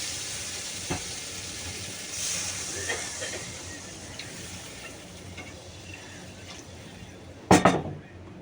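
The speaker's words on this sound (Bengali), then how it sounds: "মশলাটা সুন্দর করে কষে নিয়েছি আর তেলও ছেড়ে দিয়েছে বুঝেছো পুরো তেল ছেড়ে দিয়েছে এবার আমি জল দিয়ে দেবো" Spice paste frying in hot oil in a pan, fried until the oil separates, gives a steady hiss and sizzle, then a sudden loud burst of sizzling near the end as water is poured in.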